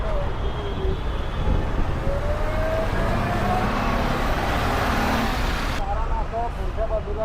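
Road traffic at an accident-blocked stretch between Vikhroli and Dombivli, a dense continuous engine rumble from nearby vehicles with passing horns and tonal whines, steady and loud throughout.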